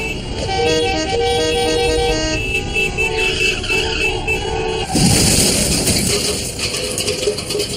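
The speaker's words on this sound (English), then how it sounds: "Horns make a pattern of sounds that we use to" Car horns honking in traffic, with several sustained, overlapping horn tones blaring loudly and a rattling burst of traffic noise partway through.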